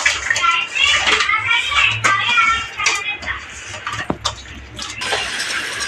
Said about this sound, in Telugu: అలా నీళ్ళు పట్టుకొని బాగా కడగాలి